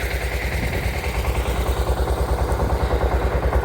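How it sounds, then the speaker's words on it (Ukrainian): A small tractor engine clearing snow from a yard, its motor putting loudly and close with a fast regular rhythmic thumping throughout and no talking. "Він маленький ці трактори, це так."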